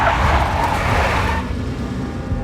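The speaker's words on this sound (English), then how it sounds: "A big black Mercedes." A big black Mercedes in Max Payne Remastered drives past with a loud engine roar and tire noise, easing off into a quieter hum partway through.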